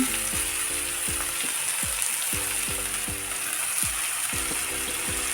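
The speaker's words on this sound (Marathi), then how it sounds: "मी आता ही स्वच्छ धुतलेली पालक घालते" Washed spinach goes into softened tomatoes cooking in a pan for palak paneer, with a steady frying sizzle and hiss running throughout, close and constant, plus repeated faint mechanical ticking over it.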